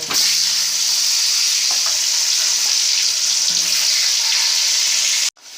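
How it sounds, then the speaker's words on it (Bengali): Salted potato pieces frying in hot oil give a loud, continuous sizzle that stays close and steady throughout, then cuts out abruptly for an instant near the end. "আলুতে নুন দিয়ে মাখিয়ে নিয়েছি যে আলুগুলো এবার এক করে তেলের মধ্যে দিয়ে দেবো"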